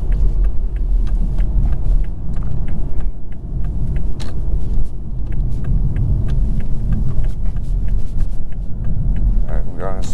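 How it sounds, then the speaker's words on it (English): Engine of a 2021 Toyota Supra 2.0 in sport mode heard from the cabin on a back road, a loud continuous road and engine rumble with scattered clicks and a brief rising rev near the end. "In sport, as you can see, the downshifts are on point."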